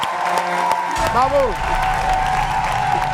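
A classroom audience applauding a student, a short burst of clapping and cheering that follows a brief spoken exchange and an electronic chime, near and moderately loud, with talking over it.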